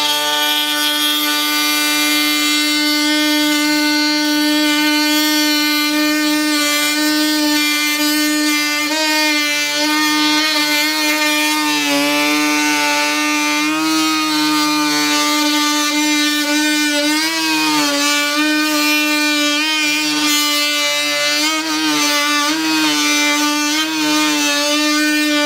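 A Hercules power saw fitted with a carbide blade runs loud and steady, its high motor whine rising and dipping slightly in pitch as it cuts, with no talk over it.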